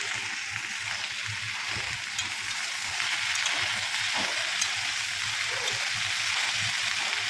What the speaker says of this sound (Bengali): তো ঝিঙেটা একটু ভালো করে ভেজে নিই আমার সাথে